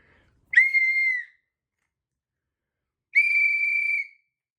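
A 3D-printed whistle is blown twice, each a clear, steady high tone lasting under a second, separated by a couple of seconds of silence.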